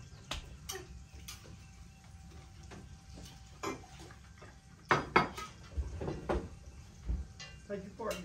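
Forks and dishes clink while bacon is served from a smokehouse, a series of sharp, irregular metallic taps and scrapes, some louder near the end, over low background rumble with people talking quietly.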